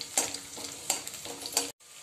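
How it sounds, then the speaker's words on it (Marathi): Green chillies with finely chopped garlic sizzling in oil for a tempering, with steady frying hiss and several sharp stirring scrapes, ending in a brief cut to silence. "आपल्या मिरच्या छान तळले गेले आहे।"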